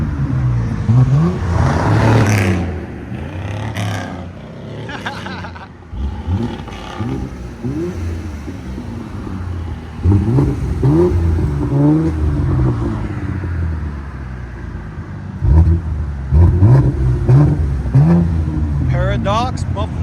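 A 2014 Cadillac XTS V-Sport with a 3.6L twin-turbo V6 and Paradox exhaust with rear muffler delete revs in a series of loud, close bursts that rise and fall, with people talking between and over the pulls.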